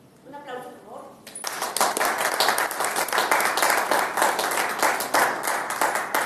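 Audience applause breaks out for an engineer and town chronicler of Guadalupe Victoria, following a brief spoken introduction; dense, sustained clapping from a crowd fills the room and stays steady to the end.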